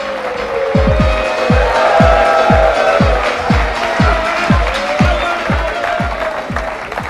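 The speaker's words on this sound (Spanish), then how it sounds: "un fuerte aplauso para recibir a Guadalupe" A television studio audience claps and cheers to welcome a guest on a talk show, dense continuous applause mixed with music and rhythmic thumping beats.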